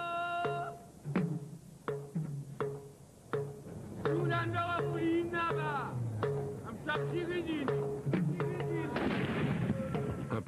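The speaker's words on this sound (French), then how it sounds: "Un premier coup de canon annonce le début de ce rituel, vieux de plus de 1000 ans." A ceremonial cannon fires at sunrise outside the palace of the Mossi emperor, the Moro Naba, opening a ritual more than 1000 years old. Sharp, loud booms repeat throughout amid voices and animated, tonal cries.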